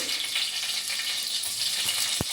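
Cumin seeds and green chillies fry in hot oil for an egg and prawn curry, a steady close hiss of sizzling that holds throughout with one brief tap near the end.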